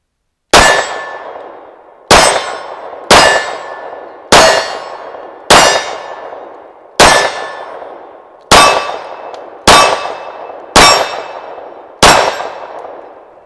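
Ten loud shots from a Tisas 1911 Stingray Carry 9mm pistol firing full metal jacket ammunition at a range, sharp cracks spaced about a second apart, each trailing a short ringing decay, with no talking.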